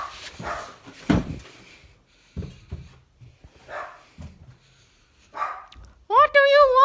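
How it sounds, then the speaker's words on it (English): A small dog barks, yips and whimpers in short scattered bursts at close range while someone talks to it, ending in a run of high, wavering whines. "Why are you barking?"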